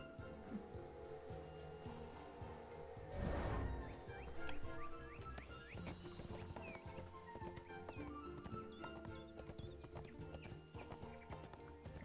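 A horse in the video game ArcheAge gallops and clip-clops over game music, with a short snorting burst and steady rhythmic hoofbeats under the soundtrack, with no speech.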